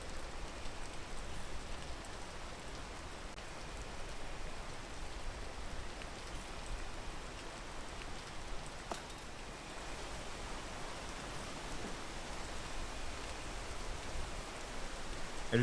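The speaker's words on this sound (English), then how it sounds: "I just gotta sit here and wait for the rain to go away." Steady rain falls in the video game Peak, a continuous broadband hiss of drops hitting surfaces that holds at an even level throughout.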